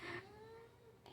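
A cat meows once in a home kitchen, a short, fairly faint, slightly falling cry with nothing else around it.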